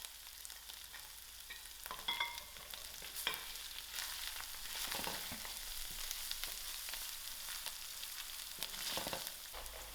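Ginger garlic masala frying in a pan for dhal curry, a faint, steady sizzle with occasional light stirring scrapes.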